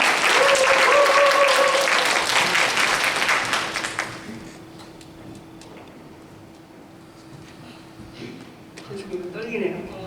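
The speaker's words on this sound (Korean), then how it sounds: "박수를 한번 마지막으로." A church congregation at a Sunday youth worship service bursts into loud, dense applause for about four seconds, then it fades into a quiet hall with a faint low hum and scattered small noises.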